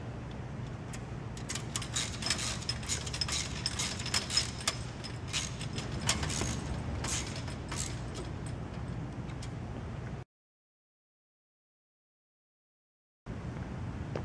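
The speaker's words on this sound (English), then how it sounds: "And the socket wrench." A socket wrench tightening nuts while assembling a rack or stand, with a series of close metallic ratcheting clicks and clanks that come in uneven bursts, then a short silence before the clicking resumes.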